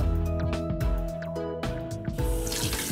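Water poured and splashing for a toy bath, a steady running stream with bubbly drips and a brighter gush near the end, heard over a tonal music bed.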